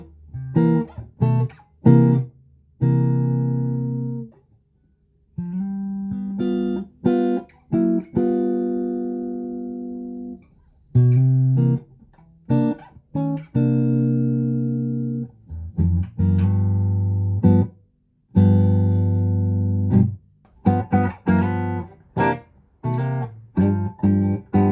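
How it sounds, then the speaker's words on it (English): An electric guitar played through a vintage 1979 New Zealand-made Rockit Super Sustain 130 amp rings out in sustained notes and short strummed bursts, separated by brief pauses, loud and close with no talking. "put the amp back together and enjoy my stupid guitar playing"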